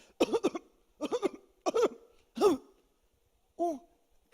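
A voice imitates a series of harsh coughs, four quick bursts in a row, then a pause and one more, close and fairly loud with no other sound.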